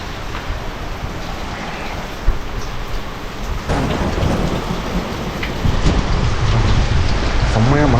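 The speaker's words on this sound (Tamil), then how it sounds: "செம்மையாக மழை பெஞ்சிட்டு இருக்கு." Heavy rain pours steadily outside with rolling thunder, a dense constant patter that swells louder toward the end, with a sharper crack near the middle.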